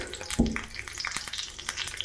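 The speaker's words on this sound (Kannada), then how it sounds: "ಕೊತ್ತಂಬರಿ ಸೊಪ್ಪಿಂದು ಒಲೆ ಮೇಲೆ ಒಗ್ಗರಣೆ ಸೊಟ್ಟಿಟ್ಟಿದ್ದೀನಿ" Brief, crackly sizzling with quick popping spits as a tempering of green chili pieces hits hot ghee, opening with a sharp burst and settling into light continuous crackle.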